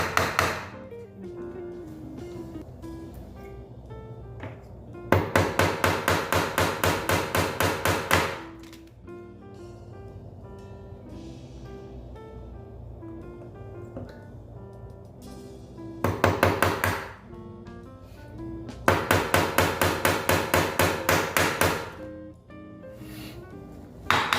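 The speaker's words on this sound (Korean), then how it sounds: "못 박기도 조금 편하겠죠." Nails hammered into a board for string art, heard as fast runs of sharp metallic taps in several loud bursts with short pauses between them, close to the listener, over a quiet background.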